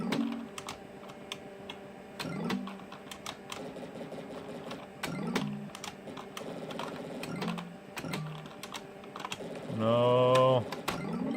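Scattered keypresses on a computer keyboard's numpad with an older IBM computer, close and clicky, mixed with short electronic warbling game tones and a louder rising chirp near the end.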